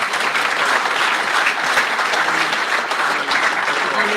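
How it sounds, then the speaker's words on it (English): A room full of rally enthusiasts applauds at a forum as a guest, the owner of a T16 rally car, comes forward; thick, even clapping holds strongly and continuously throughout. "Round of applause for Kevin, please."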